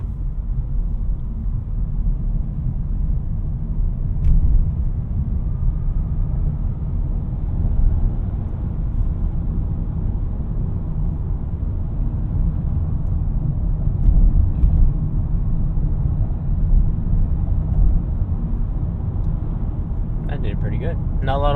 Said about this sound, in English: So I'm going to give it some gas to see how it does in these corners.